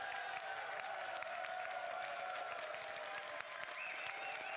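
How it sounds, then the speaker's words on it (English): A crowd applauds at a Clash of Clans tournament final, steady clapping at a moderate distance that holds evenly for a few seconds, with a faint voice mixed in. "Chief Pat giving a round of applause to Itsu."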